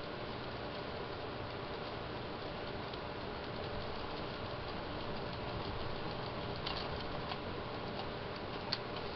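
The wheel of a homemade toy crop harvester spins fast, giving a steady, quiet ticking rattle that runs continuously against a faint background hum, ending with a couple of slightly sharper clicks.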